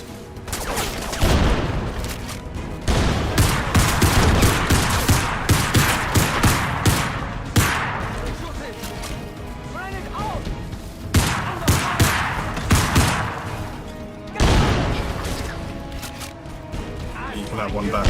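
Grenade explosions and gunfire in a PC video game, with loud near bursts of automatic fire and heavy blasts coming in waves, while a person talks over the action.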